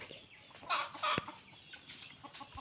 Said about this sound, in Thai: จับไก่นี่มันจะไม่หยุดเลยใช่ไหม